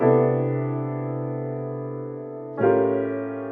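Two sustained intro chords ring out in turn, the second one a dominant 6 chord struck at about two and a half seconds, clean and moderately soft with no voices.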